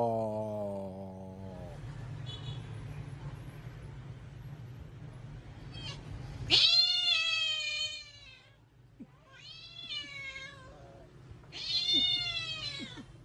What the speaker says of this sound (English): King cat noise gets a bunch of felines rallied up.